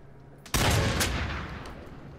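A sudden loud gunshot in the Until Dawn horror game cracks out and then decays over a long echoing tail, a single close blast against quiet room tone.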